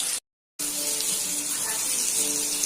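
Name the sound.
masala fish frying in oil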